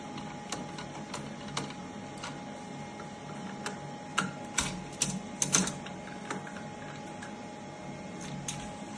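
Screws come out of the cover of a sewing machine, and the driver makes faint ticking clicks at an irregular pace over a quiet, steady background, with a few slightly stronger clicks in the middle.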